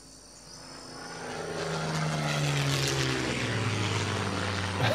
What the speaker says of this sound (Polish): To jest ten samolot.